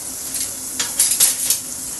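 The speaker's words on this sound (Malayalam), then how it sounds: "ഇനി അതൊന്ന് ഇളക്കി കൊടുക്കുക" Coriander and chili powder being stirred in a pan over a steady background sizzle, with a few scraping, clinking strokes of a utensil against the pan, close and fairly loud.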